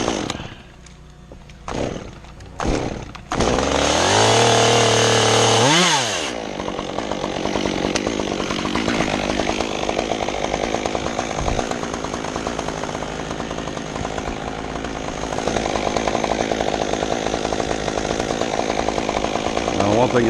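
A chainsaw cuts a tree in a cemetery. A few short sputters build into a loud, close high-rev burst, then the saw settles into a long, steady, buzzing cut that swells again near the end.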